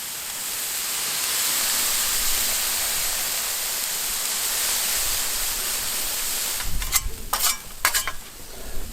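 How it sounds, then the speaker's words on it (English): Water poured onto a hot Blackstone griddle beside cooking pork gives a loud, steady rush of steaming hiss, followed near the end by a few sharp scrapes and clatters of a spatula on the flat top. "I'm going to dump some water on to steam it up."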